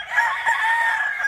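A rooster crows once nearby, a loud sustained cock-a-doodle call at a backyard poultry pen, with no talk over it.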